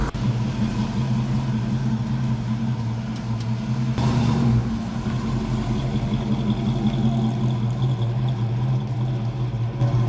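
A car with a newly fitted automatic transmission drives along with a steady, fairly loud engine drone and road rumble inside the cabin, easing briefly around a shift before settling back to an even cruise.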